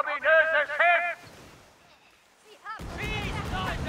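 Ship cannon fire during a naval battle in the video game Skull and Bones: a loud, sustained broadband blast bursts in near the end after a stretch of quieter game sound, with a voice heard earlier.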